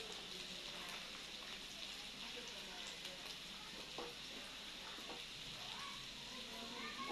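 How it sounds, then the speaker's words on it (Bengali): Meat sautéing in a pan gives a steady, quiet sizzle with faint scattered crackles throughout, and no voices are heard. "বন্ধুরা দেখুন মাংসটা কষাচ্ছি"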